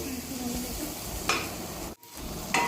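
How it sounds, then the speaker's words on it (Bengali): Potatoes and chopped tomatoes stirred and fried in a pan for a sabu tiffin recipe: a continuous close sizzle with spatula scrapes, one brief dropout, then renewed stirring. "এবার নাড়াচাড়া করে প্রায় 2 থেকে 3 মিনিট ধরে আমি এগুলোকে ভেজে নিচ্ছি।"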